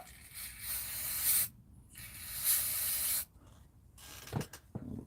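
An aerosol can of carburetor cleaner sprays in two sustained bursts, each about a second long, hissing loudly and close, followed by faint handling clicks and rattles.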